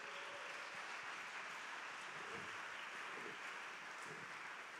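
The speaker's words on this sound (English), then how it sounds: "Let's have a round of applause for them as they go." Guests at an anniversary celebration give a round of applause, a steady, moderately faint wash of clapping that holds evenly throughout with no voices over it.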